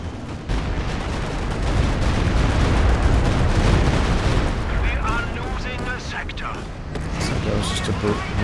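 A sustained artillery barrage in a real-time strategy video game, dense rumbling booms and crackling impacts rolling continuously for several seconds, loud and close, with a commentator talking over it.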